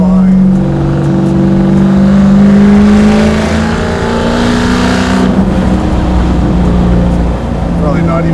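A 1,000 hp Hellephant-powered Cuda restomod drives along with its engine droning loud and steady, a deep sustained rumble that rises and settles slightly through the run, heard from inside the car.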